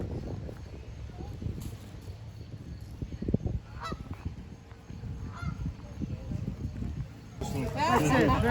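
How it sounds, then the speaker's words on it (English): Geese honk in a windy outdoor spot near a generator, with repeated loud honks close by mixed with wind buffeting the microphone and people talking over them. "Look at the geese, yeah."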